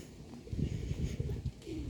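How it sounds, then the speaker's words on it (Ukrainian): Pigeons cooing nearby, a series of soft, low, throaty coos in an uneven rhythm over quiet outdoor background. "Голуби пасуться."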